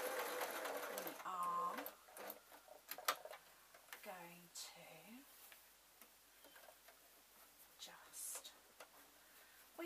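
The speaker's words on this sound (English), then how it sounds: "we've got to make sure that we're just sewing the bits we want to sew" Sewing machine stitching a pillowcase into a baby outfit, running in short, quiet bursts with faint ticking and whirring, under a voice talking in the background.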